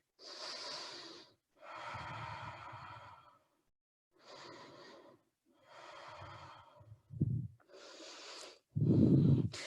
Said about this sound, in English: Inhaling deeply, and exhale deeply.